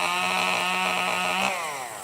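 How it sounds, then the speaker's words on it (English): Chainsaw running steadily during tree trimming at a ranch, a loud buzzing drone with a strong harmonic whine that holds level, then drops in pitch and eases off near the end; no talking. "the chainsaw's loud"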